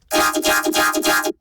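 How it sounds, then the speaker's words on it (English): A buzzy synth bass with a robotic, vowel-like vocoder tone, pulsing in a steady rhythm of several notes, loud and close. "You can throw vocoders on any of your basses and it colorifies it like crazy."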